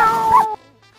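A person imitates a cat with one drawn-out, fairly loud vocal meow that lasts about half a second and then trails into near quiet.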